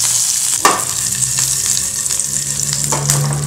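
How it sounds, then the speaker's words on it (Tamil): Mustard seeds, a dried chili and curry leaves sizzle steadily in hot oil in a pan, a loud, close, continuous crackling with scattered sharper pops and no voices. "எண்ணெய் காஞ்சிருச்சு அதில் கடுகு ஒரு வரமிளகாய் கருவேப்பில"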